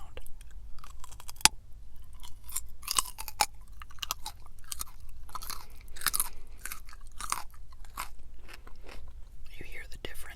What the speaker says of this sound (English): I need to do it mouth open or something like that in order to make it a good sound.